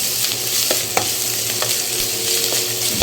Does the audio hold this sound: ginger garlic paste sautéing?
yes